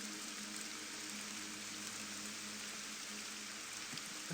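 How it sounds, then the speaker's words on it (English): Heavy, steady rain in the video game Morrowind, a loud continuous hiss that fills the scene evenly from start to finish with no voices over it. "the rain is kind of loud."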